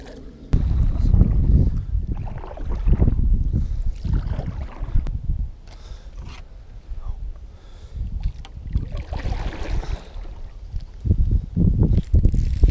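Paddle strokes from a kayak on a lake during a fishing outing come as repeated splashing swishes and drips amid gusty wind noise on the microphone, fairly close.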